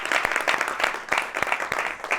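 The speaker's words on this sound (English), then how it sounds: "That's something to clap for." A small group in a newsroom claps for Chicago Mayor Brandon Johnson's first year in office, a brief burst of close, loosely rhythmic hand claps.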